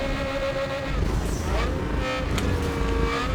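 A car engine drones and rises as a vehicle draws nearer in the racing game Need for Speed Underground 2, a steady motor hum with faint talk underneath.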